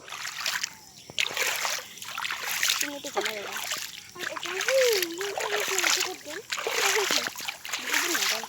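A small homemade boat rowed through floodwater in a rain-soaked field, paddle strokes splashing and dribbling in a loose rhythm close by, while people talk throughout.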